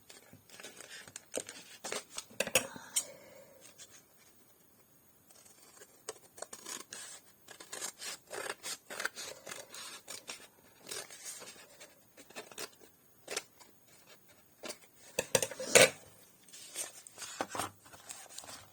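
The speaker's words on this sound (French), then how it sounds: "je vais découper le surplus" Scissors snip away excess material while a small piece of furniture is being finished, a run of short crisp cuts and rustles in uneven bursts with brief pauses, close up and without speech.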